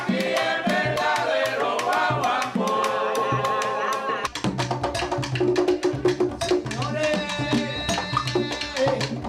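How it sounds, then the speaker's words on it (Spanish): Afro-Cuban rumba music with layered percussion and melodic accompaniment, loud and continuous, shifting into a busier, more percussive rhythm partway through. "Y la rumba afrocubana suena así."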